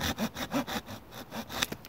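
A hand saw cuts through timber limbs in a Swedish forest with steady back-and-forth strokes, close and rhythmic, about seven rasping passes with no voices.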